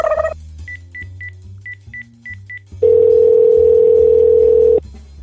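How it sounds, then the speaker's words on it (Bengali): A phone call being placed: a run of short keypad dialing beeps in quick clusters, then a loud, steady electronic tone held for about two seconds before it cuts off. No one speaks. "দাঁড়া, ফোন করছি।"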